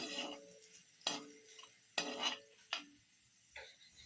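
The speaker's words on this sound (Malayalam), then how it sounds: "ശേഷം ഇഞ്ചിയുടെ ആ ഒരു പച്ചമണം മാറി കിട്ടുന്നത് വരെ തുടരെ ഒന്ന് ഇളക്കി കൊടുക്കാം" Chopped ginger frying in ghee while being stirred, several distinct scrapes of a spoon against the pan spaced about a second apart over a soft, quiet sizzle.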